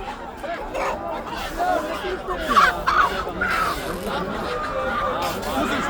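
Chickens cluck and squawk amid a busy crowd of chattering voices at a poultry market in Dammam, Saudi Arabia, with someone talking nearby over the steady market bustle.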